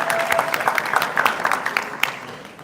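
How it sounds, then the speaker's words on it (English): An audience claps for Ron at a homebrew awards ceremony at a state fair, a brisk round of applause heard close that gradually thins and fades toward the end. "extra round of applause for Ron"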